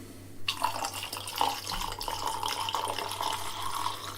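Clean tap water gushing steadily from a faucet into a tank during black-and-white film development, starting abruptly and continuing loud and close.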